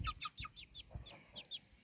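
A young crooked-beaked chick on a farmyard smallholding gives a series of short, high chirping peeps in quick succession, soft and fairly close, with faint low thumps beneath.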